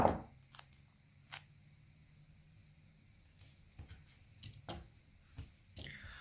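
Scissors snip off excess material while a drone is being built, a few sharp separate clicks spaced out over a quiet background, close by.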